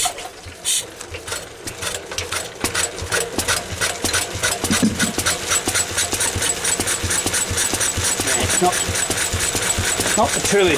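A Lister stationary engine with a belt-driven pulley catches and runs on petrol, settling into a steady rapid chugging with regular mechanical knocks, fairly close and continuous throughout.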